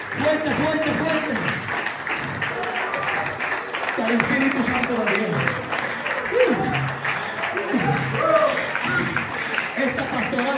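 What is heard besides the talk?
congregation applause at retreat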